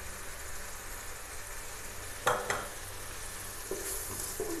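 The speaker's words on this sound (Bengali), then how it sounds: "এখন এগুলো একটু নেড়ে নেই ভালো করে।" Spices with ginger and garlic frying in a pan, a soft steady sizzle broken by a couple of sharp utensil scrapes and a few lighter stirring knocks.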